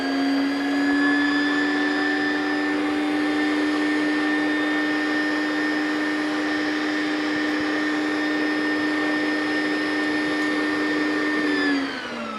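An electric mixer beats eggs into bacon toffee cookie dough, giving a loud steady motor whine that holds evenly for several seconds and then spins down at the end.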